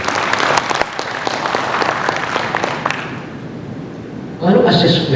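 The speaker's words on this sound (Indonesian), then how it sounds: "Tepuk tangan untuk kita semua." An audience of special education teachers gives a burst of crisp applause that gradually fades, followed by someone speaking at close range.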